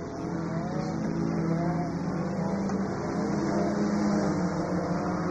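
Hatchback and other race cars running laps at a racetrack, a continuous droning engine roar with rising and falling pitch as cars circle nearby, loud and sustained.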